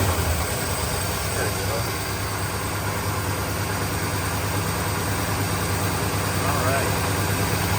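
An old car engine idles steadily, either a 1966 Pontiac Catalina or a 1973 Ford LTD warming up with a slightly sticky choke, a continuous low rumble heard up close with brief talk over it.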